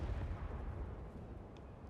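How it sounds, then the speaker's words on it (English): Low rumbling booms and dense blasts from explosions in Indiana Jones and the Great Circle roll on continuously, heavy in the low end and fairly loud, with no talk over them. "At least the loud explosions have stopped."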